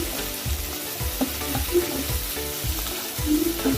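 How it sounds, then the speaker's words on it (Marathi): Onions and tomatoes fry in a pan with a steady close sizzle, broken by a few soft stirring scrapes and bubbling pops. "टॅमॅटो कांदा आणि टॅमॅटो आपला छानपैकी फ्राय झालेला आहे"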